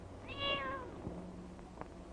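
A single drawn-out cat meow, fairly close and clear, followed by quieter background noise and a faint hum.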